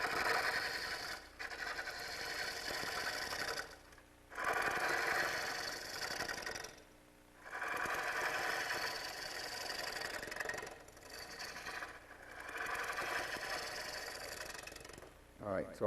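Long-handled gouge cutting a mesquite heart bowl on a wood lathe, a rough scraping hum with a droning motor beneath, coming in long passes separated by short quiet gaps, while someone talks intermittently.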